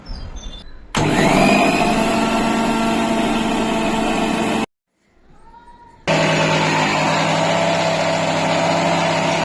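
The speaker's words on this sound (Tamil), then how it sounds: "வறுத்தெடுத்த கருவேப்பிலையை வந்து நல்லா மிக்சி ஜாரில் போட்டு மைய அரைச்சி எடுத்துடலாம்" Electric mixie jar grinding roasted curry leaves into fine powder: a loud, steady motor whine running for several seconds, stopping briefly as it winds down, then starting again at full speed, close up.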